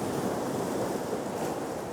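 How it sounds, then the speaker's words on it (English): Ocean waves spill over boulders along a rocky seashore, a steady close wash of surf hiss with light wind rumble, continuous and loud throughout with no voices. "taking a series of shots of the waves just spill over these boulders in the foreground here"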